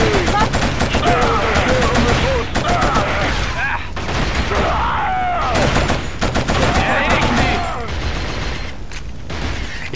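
Weapon fire in the PS2 game Killzone, loud automatic bursts broken by short pauses, with someone talking over parts of the shooting.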